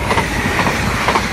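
A train passes close by at a level crossing, its steady broadband rumble and rail noise holding loud throughout with faint periodic wheel clatter and no talking.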